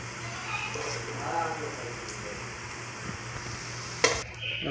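Potatoes that have finished frying hiss softly in oil as they are lifted out and drained, a low steady sizzle with a few scrapes and a sharp metallic clink near the end.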